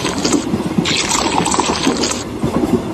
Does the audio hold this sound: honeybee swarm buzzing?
no